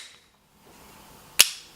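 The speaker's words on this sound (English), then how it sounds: "Let's hear the audible click in this one." A single sharp click from a Glock pistol's trigger dry-firing, fitted with an IGFS duty trigger, snapping crisply once near the end after a quiet pause.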